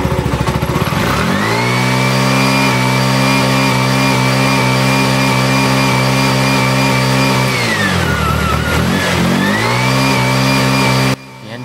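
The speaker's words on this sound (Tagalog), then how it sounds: "bumibirit na siya pero may kulang pa rin dito" Close and loud, a Bajaj RE auto rickshaw engine with a lost-power fault revs after repair work on its heat shield and throttle body. It holds a high, steady drone, dips and climbs back near the end, then cuts off abruptly.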